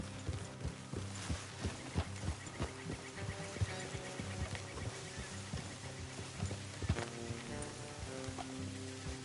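Steady clip-clop of horse hooves walking at an even pace in the video game Red Dead Redemption 2, set against a low, layered music bed with no talking.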